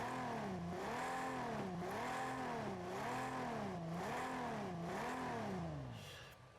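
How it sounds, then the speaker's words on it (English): Ferrari flat-12 engine in Project CARS 2, revving up and down in repeated rising and falling sweeps, loud and close, easing off at the end. "sounds pretty good. It's a flat 12"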